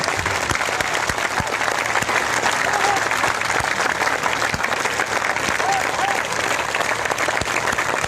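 A big rally crowd in Banaskantha, Gujarat claps hard and continuously, a loud even roar of hands with scattered shouts and voices mixed in beneath it.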